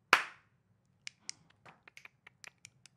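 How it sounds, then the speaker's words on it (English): A single sharp hand clap right at the start, loud and close, followed by a scatter of faint small clicks and taps in a quiet room. "And then a clap."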